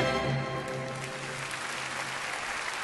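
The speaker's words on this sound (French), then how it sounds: "Messieurs, dames, applaudissements pour Monsieur Arthur." Applause for Arthur at a live radio show, a steady, fairly faint patter of clapping under a low sustained hum, continuing evenly throughout.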